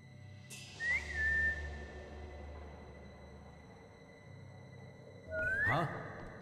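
Two rising whistles from Assassin's Creed Chronicles: China sound a few seconds apart, each a short upward-sliding tone over low game ambience and rumble.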